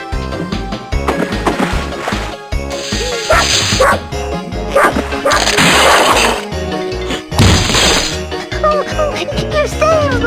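A puppy barking in the 102 Dalmatians PC video game, repeated loud yips and bow-wows over bright jingling game music, with chimes and short crashing effects between the barks.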